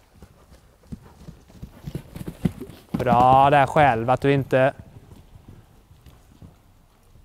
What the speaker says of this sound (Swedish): Vi har redan fått hästen att hoppa hindret.